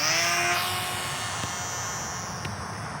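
A JJRC W01 RC plane flies overhead, its small motor making a thin buzzing whine. The buzz is fairly faint and fades slowly over a few seconds.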